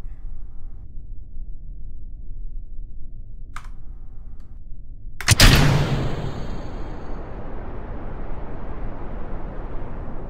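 A rocket engine ignites on the launch pad in Kerbal Space Program: after quiet clicks, a sudden loud blast erupts and fades into a steady roaring hiss that carries on to the end.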